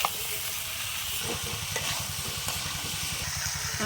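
Continuous close sizzling of potatoes frying in a pan, with rhythmic scraping strokes of stirring throughout.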